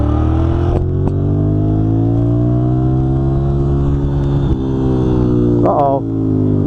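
A 1993 Ducati 750 Super Sport motorcycle pulls away in gear, its engine note climbing steadily as it accelerates, loud and close, with a brief throttle blip near the end.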